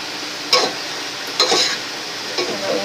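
Vegetables with malunggay leaves stirred in a pan, heard as three separate scraping strokes spaced about a second apart over a steady background hiss.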